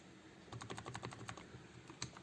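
Fingers type on a thin Everest KM-5535 wireless keyboard, giving quick, soft, close key clicks in an uneven rhythm over faint background hiss.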